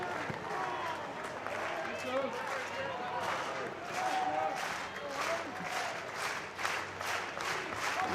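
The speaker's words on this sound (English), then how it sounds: "Rhythmic clap from the fans here at Founders Park." Baseball fans clapping in rhythm at Founders Park during an Arkansas vs South Carolina game, a moderate crowd clap heard a little distant beneath a play-by-play announcer talking throughout.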